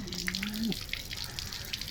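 Freshly harvested ginger from a rooftop garden is rinsed by a farmer under running water, which splashes and trickles close by. A brief voice or tonal sound rises at the start.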